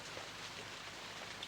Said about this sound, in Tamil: மழை எப்படி பெய்யுது பாத்தியா?